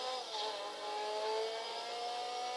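A Blista Compact sport car in GTA 5 revs steadily, a smooth mid-pitched engine whine holding and rising slightly as it accelerates, heard alone and clearly.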